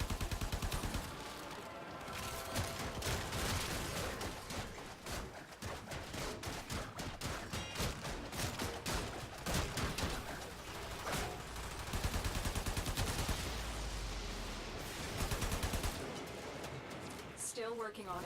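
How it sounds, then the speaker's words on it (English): Dense, continuous gunfire from the video game Warframe: rapid overlapping shots and bursts that keep going almost without pause, loud and close, mixed with other game effects and some voices. "So we're shooting the guys."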